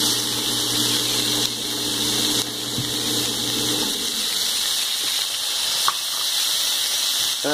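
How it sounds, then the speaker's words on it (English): Brussels sprouts sizzle in a pan of hot butter and olive oil, a steady loud hiss with a brief clink near the end. "what I'm going to do now is add my Brussels sprouts"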